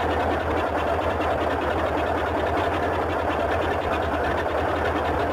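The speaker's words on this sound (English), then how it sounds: "a little bit tricky to hit that flywheel over the sound of the left engine" Left radial engine of a Boeing 247D running steadily in Microsoft Flight Simulator, a loud continuous low throbbing drone with fine rapid pulsing, alone and unbroken throughout.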